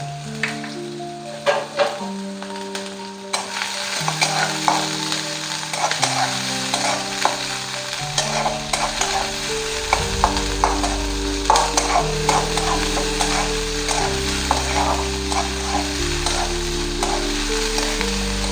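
Onion, capsicum and green chilies sauté in a pan with a continuous crackling sizzle and occasional stirring scrapes, under steady background music.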